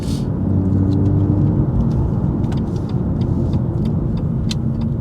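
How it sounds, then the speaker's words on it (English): Road traffic passes nearby as a steady, loud broadband rumble of tyres and engines, with a few faint ticks and clicks on top and no talking. "There's quite a lot of traffic kicking off around here now."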